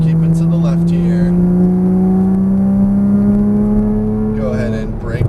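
A Porsche Cayman GTS on a race track accelerates hard from inside the cabin, its engine note climbing in pitch as it winds up, loud and sustained with an instructor's voice breaking in near the start and end.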